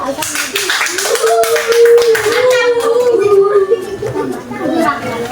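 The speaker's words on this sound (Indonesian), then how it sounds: "Oke, tepuk tangan bentuk." A classroom of pupils claps their hands together in a rhythmic patterned clap, loud and close, mixed with children's voices and a teacher talking over it.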